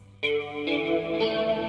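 A Strat-style electric guitar tone with flanger, feedback, reverb and stereo delay plays from the Korg Gadget Santa Ana rhythm guitar machine, strummed chords entering sharply, sustaining and swirling, loud and alone.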